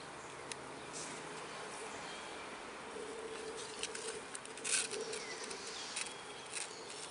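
A faint, continuous buzz of honeybees in a jar hums throughout, with a few light taps and rustles.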